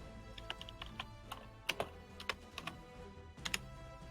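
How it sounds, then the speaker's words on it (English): Quick, light taps on a computer keyboard come in an irregular run of keystrokes, with a few sharper clacks standing out, heard close and fairly quietly with no talking. "She's typing."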